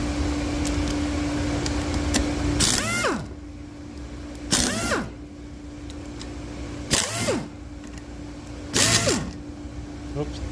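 An impact gun works on a Subaru rocker shaft, firing four short, loud bursts a couple of seconds apart. Each burst ends in a whirring wind-down, with a steady hum between bursts.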